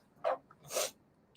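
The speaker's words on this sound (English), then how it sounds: "I had to sneeze there, guys." Two quick sneezes, the first a short sharp burst and the second a longer breathy one, close up in an otherwise quiet space.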